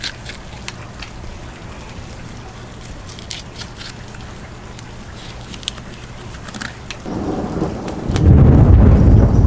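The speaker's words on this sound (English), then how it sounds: "And we got a crazy thunderstorm." Heavy thunderstorm with rolling thunder and rain, steady rainfall throughout that builds into a loud, deep rumble of nearby thunder near the end.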